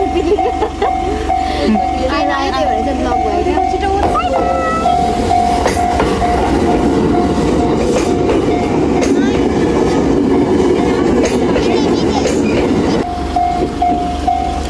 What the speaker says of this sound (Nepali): अब हामी ट्रेन आउन आँटेको छ